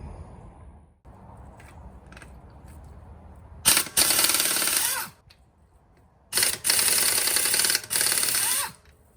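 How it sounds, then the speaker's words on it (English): A car being jacked up and its tire taken off during a DIY fender repair: two loud, sustained mechanical bursts, like a power tool or ratcheting jack, each lasting over a second, separated by a quiet pause, with no talk. "let's get it jacked up, get that tire off"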